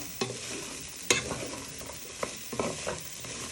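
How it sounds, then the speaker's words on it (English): Onions, ginger, garlic and chilli frying in a pan for beef in black bean sauce, with a low background sizzle and several scraping strokes of a utensil stirring the pan, close and fairly quiet, no talking. "You want to give this a good stir. So they just go nice and soften."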